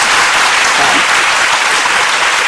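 Dense, steady audience applause fills the room at close range, a continuous wash of many hands clapping with no voices standing out, during an Islamic talk show discussion.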